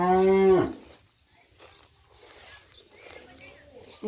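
A cow at a Thai cattle farm where fattening calves and buffalo are kept gives one loud, close moo at the start, followed by quieter farmyard sounds and a voice speaking faintly.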